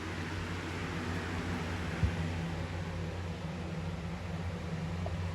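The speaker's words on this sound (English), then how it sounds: "I don't know if you guys can hear me with the fan" Steady broadband whooshing of a running electric fan, constant and fairly close, with one faint click partway through.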